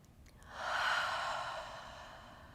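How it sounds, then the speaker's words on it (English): A person takes a slow, deep breath in during a guided breathing meditation, an airy inhalation that swells over about a second and gently fades, alone and close. "Now we're going to breathe in from front to back."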